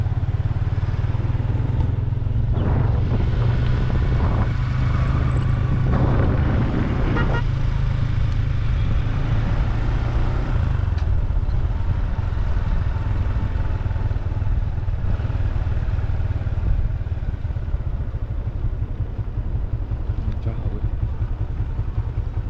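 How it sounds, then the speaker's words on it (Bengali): Motorcycle riding along the bank of the Karnaphuli river, a steady loud engine drone running throughout with a strong low hum, passing traffic and horn toots mixed in, and people talking over it. "কর্ণফুলীর পারে এখন মোটর বাইক করতেছি"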